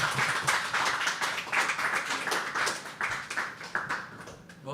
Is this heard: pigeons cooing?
no